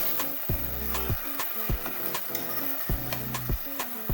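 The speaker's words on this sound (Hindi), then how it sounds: "थोड़ा सा सिरका डालेंगे, अच्छे से मिक्स करेंगे" A spoon stirs and scrapes through vegetable pasta in a pan just after vinegar is added, making a series of about eight quick, close, rhythmic scraping strokes over a faint sizzle.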